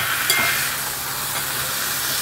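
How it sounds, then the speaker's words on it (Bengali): Large chicken pieces, salted, sizzle steadily in a pan as they are sautéed and stirred, producing a constant close hiss of frying with faint utensil scrapes. "যেহেতু পিসটা একটু বড় তাই জন্য একটু সাবধানে কষাচ্ছি।"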